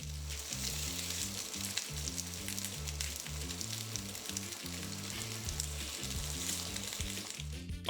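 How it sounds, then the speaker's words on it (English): Beef strips searing in a hot pan, a loud continuous sizzle and crackle heard up close, with a steady pulsing musical backing underneath and no talk. "Into the pan goes our beef strips. I really want to try and keep these as separate as possible to get a good hard sear on each piece"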